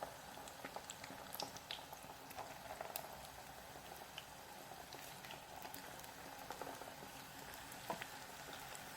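Rice fritters deep frying in hot oil make a faint, steady bubbling fizz with scattered small pops throughout, and no voices.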